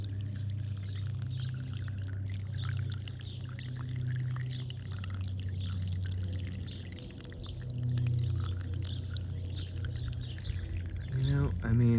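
Liquid siphoned through a tube trickles steadily into a container, a continuous soft running-water sound with faint background noise throughout.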